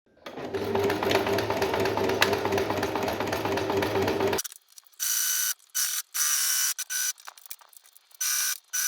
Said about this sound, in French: Donc on fait une piqûre tout du long, comme ça, en laissant bien l'ouverture.